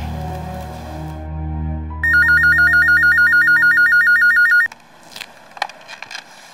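An office telephone rings loudly in an electronic, steadily pulsing pattern for a few seconds. Before the ring there is a low hum, and after it stops, soft shuffling and clicks follow.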